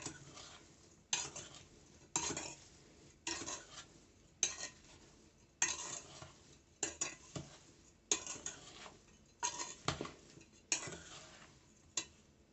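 Fresh viburnum berries being stirred with sugar in a bowl, a spoon scraping and clinking against the dish in steady repeated strokes roughly once a second, close and moderately loud with no talking.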